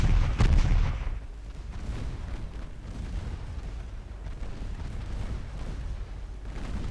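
Heavy cruiser guns in Ultimate Admiral Dreadnoughts fire one deep booming salvo at the start, then a low rumbling naval battle ambience continues steadily underneath.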